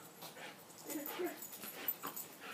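Dog whimpering and yipping while playing with a flirt pole, faint high whines and soft pants under a person talking nearby.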